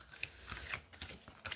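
New tarot cards being shuffled, stiff and hard to shuffle, several quick riffling bursts and soft slaps close by, uneven in rhythm.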